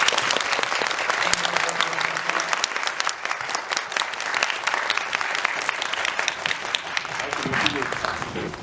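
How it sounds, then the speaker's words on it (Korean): Sustained applause from a large audience at a Korean film event, dense and steady clapping filling the room throughout, with some voices and crowd noise mixed in. "오늘 소개해 주신 세 분에게 큰 박수 부탁드립니다."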